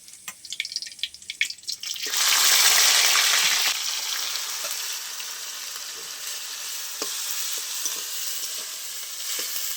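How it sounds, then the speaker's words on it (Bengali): After a few ticking clicks, grated onion hits hot oil already holding white cumin and bay leaves, setting off a loud burst of sizzling that settles into a steady frying crackle with occasional pops. "পেঁয়াজটা একটু ভালো করে ভেজে নেবো"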